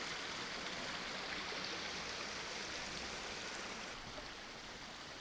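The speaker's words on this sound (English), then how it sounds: "this would be a great spot to be able to practice some skills, good running water" Outdoor stream of running water at a hiking spot, a steady broadband rush that stays constant and fairly close throughout, with no voices.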